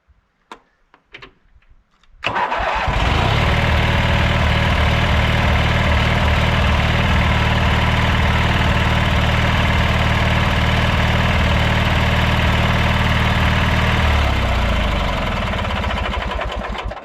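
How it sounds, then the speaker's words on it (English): After a few faint clicks, a Briggs 18hp twin engine starts and runs steadily at close range, with a rapid ticking valve clatter running through the idle before it slows. "if you listen to him, you can hear that valve clatter"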